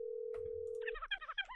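A steady telephone dial tone drones alone while calling in a video game, then cuts off into a quick run of bright chirping electronic tones.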